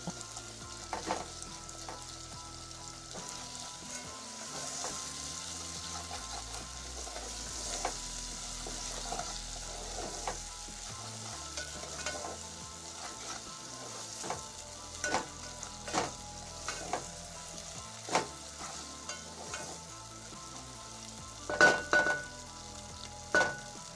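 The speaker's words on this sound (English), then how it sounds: "Mash the cubes and then stir everything together." Mashed unripe bananas (matoke) being stirred in a cooking pot, with a soft sizzle underneath and repeated scraping, knocking strokes of a spoon against the pot, growing sharper toward the end, with no voices.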